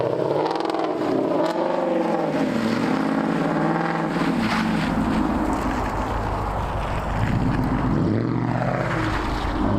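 A Mustang propeller plane drones past close by, its engine note rising and falling loudly and continuously, with no talk.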